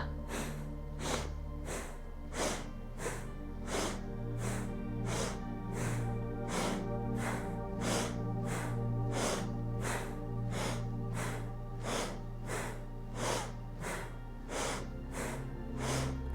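Rapid, evenly spaced pumping breaths from a breathing exercise, sharp nasal puffs repeating about once per second in a steady rhythm for the whole stretch, close and alone over a low background hum.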